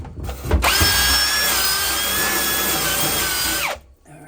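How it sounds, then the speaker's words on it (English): A power drill spins up after a short clunk, holds a steady high whine for about three seconds, then winds down and stops, close and clear with no talking. "If I can find my drill"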